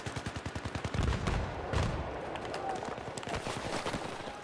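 Gunfire in Battlefield 3 with a pump shotgun: a rapid run of sharp shots at the start, then heavier blasts and a steady wash of battle noise, all loud and close.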